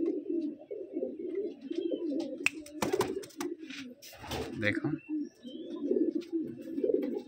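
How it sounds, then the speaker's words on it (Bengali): Pigeons cooing in a home loft where a female pigeon is kept, a steady run of low, rolling coos repeating close by throughout, with a brief spoken word and some handling noise partway through. "মাদি পায়রা হয়েছে এটা আমার ঘরের"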